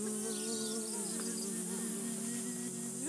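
Insect-like buzzing, steady and close, fills the whole passage alongside sustained tonal music from a children's musical show about a busy bee.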